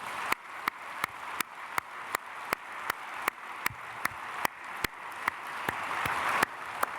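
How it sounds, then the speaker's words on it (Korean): During a Sunday worship service at Myungsung Church in Korea, the congregation claps in a steady, regular rhythm, sharp beats about three per second, over a faint background hum that swells slightly toward the end. "우리 크게 박수로 환영하겠습니다."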